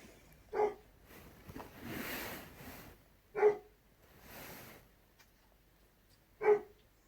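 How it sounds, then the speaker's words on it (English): A dog gives three single, fairly quiet barks spaced about three seconds apart indoors, each one short and sharp against a low background hiss, with no talking. "Molly might be about to get up because Kai's barking."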